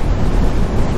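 Strong wind buffets the microphone on a bike ride, a loud, dense, low roaring rumble filling the whole second.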